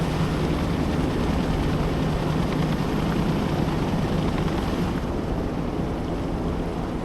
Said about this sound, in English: Kiowa is standing by. Recon heli at your command.